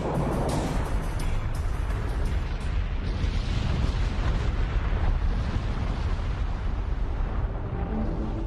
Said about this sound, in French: L'énergie colossale qui bouillonne sous le Vésuve pourrait bientôt déclencher une explosion